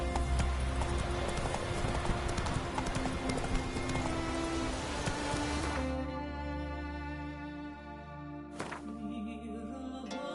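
Roach, a horse in The Witcher 3, gallops at a steady, rapid clip-clop, with loud close hoofbeats for about six seconds that then give way to softer ambient game sound and a brief burst of noise.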